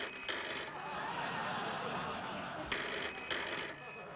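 A telephone rings faintly in a late-night talk show studio, in two short bursts of electronic trilling over a steady background hiss.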